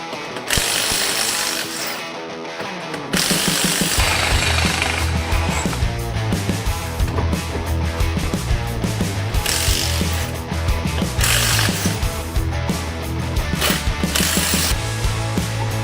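Lug nuts come off a Subaru's wheels under a pneumatic impact wrench, in a few loud, rapid ratcheting bursts with mechanical rattling and clanking between them, close by in a garage, with no talking.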